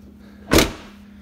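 The clamshell rear door of a Lexus GX SUV opens with a single short mechanical clunk and whoosh, close and fairly loud, set against a low steady hum.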